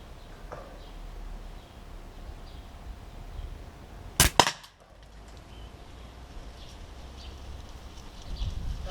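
A single sharp shot from an Umarex Glock 17 Gen 5 T4E .43 caliber CO2 pistol, a loud close crack with a short double burst standing alone over quiet room hiss.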